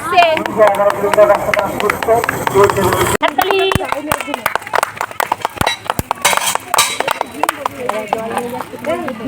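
Spectators at a marathon clap to cheer on the runners, sharp close claps sounding in bursts among loud talking and shouting.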